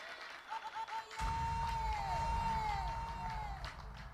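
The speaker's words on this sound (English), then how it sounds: "Let's give him a round of applause." An audience breaks into a sustained round of applause at the official opening of a vision centre, a dense wash of clapping with scattered cheers and chatter rising after a quieter start and continuing steadily.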